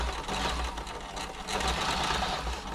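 A Toyota 2600 sewing machine runs steadily on its motor after servicing, giving a continuous, fairly close mechanical whir with faint knocking for about three seconds and no voices.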